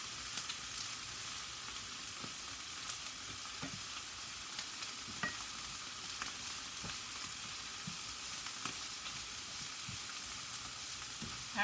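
Vegetables and flounder simmer in a pan, giving a soft, steady frying hiss with scattered faint pops and crackles throughout, no voices.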